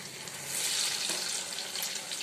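Food frying in hot oil until golden brown makes a continuous close bubbling sizzle, swelling slightly midway, with no voices.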